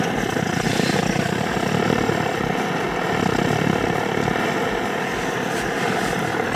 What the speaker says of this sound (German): der Kocher brennt.